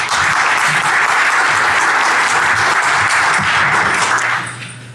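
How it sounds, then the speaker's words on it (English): A room full of people applauding steadily for a speaker at the Black Hat 2013 security conference, a dense even clatter of claps that fades out at the end. "let's give a round of applause for Takahiro"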